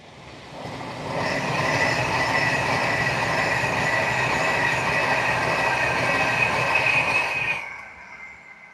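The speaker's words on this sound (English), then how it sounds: "here's another Pendolino for you" A Pendolino express train rushes past at close range, building quickly to a loud sustained roar of wheels and rail noise before cutting away abruptly near the end.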